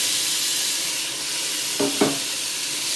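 Chopped tomatoes frying with onions in a pan for biryani make a steady close sizzle, with two quick stirring scrapes near the end.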